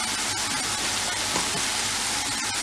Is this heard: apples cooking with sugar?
yes